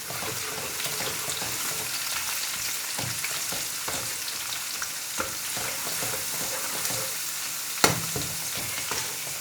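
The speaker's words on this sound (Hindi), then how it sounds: "एक मिनट के लिए इसे भूनते हैं क्योंकि इसका कच्चापन दूर हो जाए अदरक लहसुन का।" Chopped onion and ginger garlic paste frying in oil in a home kitchen pan, with a steady close sizzle and scattered stirring scrapes and clicks, and no talking.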